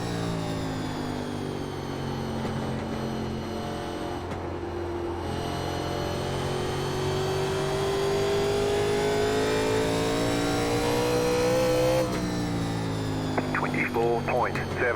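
A 1987 NASCAR Legends stock car engine in iRacing at Indianapolis Raceway Park, a loud, steady, close drone whose pitch sags and rises as the throttle lifts on corner entry, with a voice talking over it.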